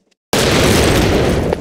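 A grenade blast in the Brick-Force video game: one loud, sudden explosion that bursts in after a brief silence and holds as a dense, roaring boom for over a second.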